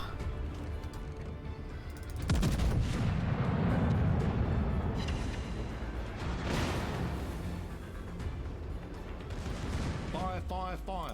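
Heavy naval guns of a warship in World of Warships fire in a loud booming salvo with long rolling echoes, followed by another blast, and someone speaks briefly at the end.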